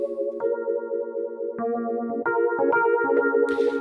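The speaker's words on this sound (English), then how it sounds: "Obviously, tremolo, but we got phaser as well." Sustained electric piano chords from a Yamaha Reface CP with phaser effect, a swirling, sweeping tone coloration, notes changing in a slow progression, played alone and up close.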